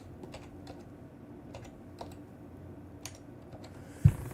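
Computer keyboard keys tap out a promo code in a quiet room, soft irregular clicks spaced through the stretch, ending with a louder thump.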